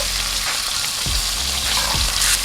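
Steak fries in butter in a hot cast iron skillet, a dense, steady sizzle close by with a couple of soft thumps as the meat shifts, no talking.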